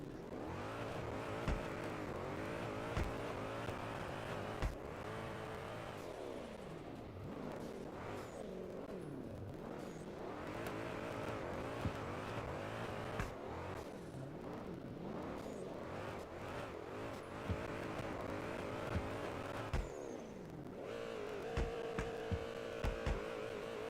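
A carbureted 1980s car engine revs up and settles repeatedly, a steady throaty drone rising and falling close by with no one talking.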